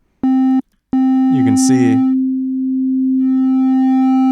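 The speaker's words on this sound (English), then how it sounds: "it just cuts the waveform off completely, and you can hear the distortion being added" A steady sine tone, distorted by a hard clipper as the gain is turned up, hums throughout, gaining harsh upper harmonics partway through; it cuts out briefly near the start, and a person talks over it for a moment.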